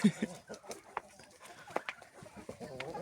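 Old hens clucking outdoors in fresh snow while feeding and drinking, with short scattered clucks and soft pecking sounds close by, quiet and without speech.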